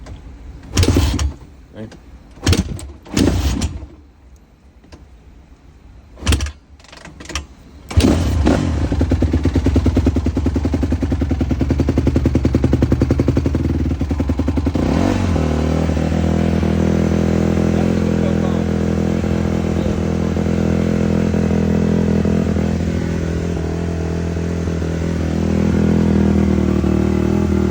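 Kicks on a 2021 Honda CRF150RB dirt bike after a clutch repair bring the engine to life: a few sharp kick thumps with talk between, then the engine catches and runs loud and close, revving and idling.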